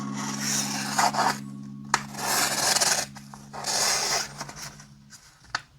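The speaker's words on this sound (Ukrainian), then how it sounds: "Для порівняння покажу мій мультитул від Victorinox, як він ріже." The knife blade of a Victorinox multitool cuts through material. Close, loud scraping strokes follow one another, several long drawn passes broken by brief pauses, with no voices.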